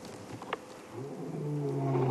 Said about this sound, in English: Here we go, he's going to roar now.